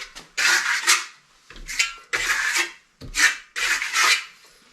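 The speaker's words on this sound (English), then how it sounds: "from what I know, you put it on with the trowel." Venetian polished plaster being spread with a trowel, four or five rhythmic scraping strokes with short pauses between them, close and fairly loud, with no talk.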